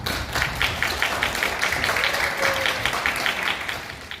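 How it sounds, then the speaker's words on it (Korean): Audience applause welcoming professors at a university graduation ceremony, brisk individual claps from a moderate crowd, fairly close and sustained throughout. "박수 부탁드리겠습니다"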